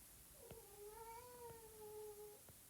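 A second domestic cat meows in a long, drawn-out, wavering call lasting about two seconds, fairly close and clear, with a few soft taps underneath and no talking.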